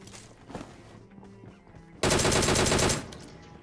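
A DP-28 light machine gun fires in a battle royale video game as one loud, rapid burst lasting about a second, after quieter scattered game sounds and distant shots.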